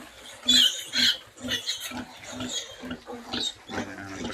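A mother pig with her piglets: a busy cluster of high squeals, grunts and snorts, several close animals calling in irregular overlapping bursts.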